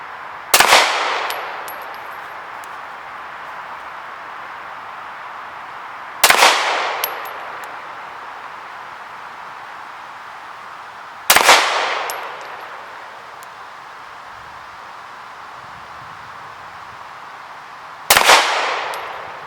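Four sharp pistol shots are fired one at a time at a target 15 yards away, spaced several seconds apart. Each shot is a loud crack with a faint metallic ring, and low background noise fills the gaps between them.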